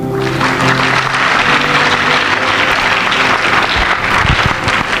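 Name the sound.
congregation applauding in church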